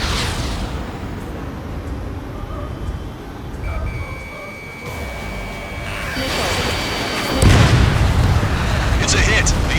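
A missile hit and explosion on an enemy aircraft in the video game Ace Combat 7: rumbling jet noise builds into a loud booming blast, with radio voices talking over it.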